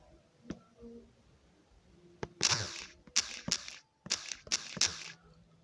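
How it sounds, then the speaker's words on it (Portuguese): Typing on a keyboard in short bursts of clicky keystrokes after a few isolated taps, close and moderately loud, no talking. "Eu vou aqui digitar."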